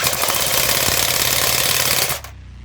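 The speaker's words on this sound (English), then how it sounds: "That is the sound of a piston being chewed to fuck by the gears." An airsoft gun with a blocked piston whose gearbox gears grind against it, making a loud, fast mechanical chattering buzz that runs for about two seconds and then cuts off abruptly, leaving a faint hum.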